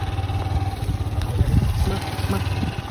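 A motor engine runs at a steady low idle with a throbbing rumble, while people talk nearby in a rural setting.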